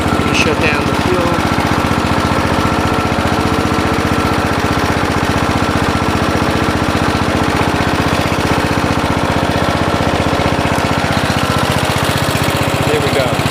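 A 2000 Murray wide-body riding lawn tractor with a 14.5 HP engine and 42-inch deck runs steadily nearby, its loud, rough, rapidly pulsing engine note continuing without a break.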